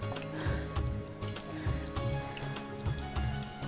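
Yakhni stock is poured into a cooking pot in a kitchen, a close, steady splashing and gurgling flow of liquid with rhythmic sloshing surges and no talking.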